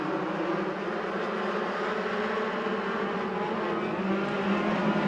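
USAC Ford Focus midget race cars racing at Bakersfield, a dense, continuous engine roar from several cars at once, loud and steady throughout, no voices.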